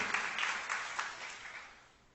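A church congregation applauds in praise during a sermon. The dense, moderately loud clapping fades out gradually over about two seconds.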